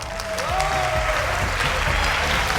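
A game show studio audience breaks into applause, the clapping swelling after a brief opening and holding dense and loud, with a voice running underneath.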